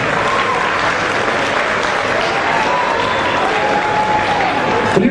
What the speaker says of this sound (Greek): Το πιο θερμό σας χειροκρότημα για αυτούς τους ανθρώπους.